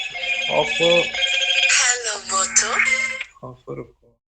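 A telephone rings close by with a melodic, warbling tone. It sounds for about three seconds alongside a speaking voice, then gives way to a few short spoken words.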